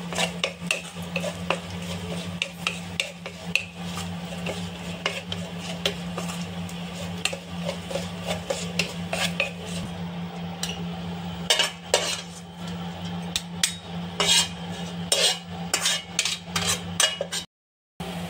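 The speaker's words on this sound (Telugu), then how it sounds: "చివరగా ఈ జీడిపప్పును వేస్తున్నాను" Cashews stirred in a metal pan for sheer kurma, with frequent sharp scraping and clinking of a spoon against the pan in irregular bursts over a faint background hum, briefly cut off near the end.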